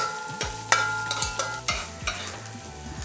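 Onions and spices browning in a pot over a wood fire, stirred with repeated scraping strokes every half second or so over a steady sizzle, close and moderately quiet.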